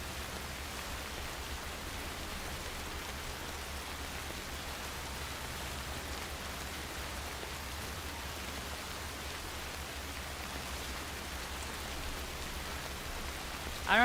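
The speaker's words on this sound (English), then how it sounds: "The rain sounds are soothing." Steady rain in the video game Death Stranding, a continuous even wash of falling drops that holds without change for the whole stretch, with no talking over it.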